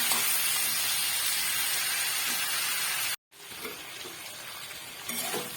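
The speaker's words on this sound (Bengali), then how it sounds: "1 চামচে নুন আর 1 চামচে হলুদ দিয়ে শিম আলুটাকে আমি 2 মিনিট ভেজে নেব" Flat beans and potatoes fry in a pan with salt and turmeric, giving a steady loud sizzling hiss that cuts out for a moment and then resumes.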